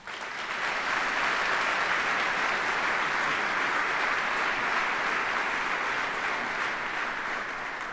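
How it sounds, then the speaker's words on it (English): Sustained applause from an audience at a military change of responsibility and retirement ceremony, a dense steady wash of many hands clapping that swells in quickly and holds evenly loud for several seconds. "Please give them a round of applause."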